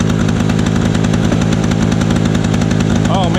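A smoking Lawn-Boy lawn mower engine runs close and loud in a rapid, choppy two-stroke putter, with a voice briefly heard over it near the end.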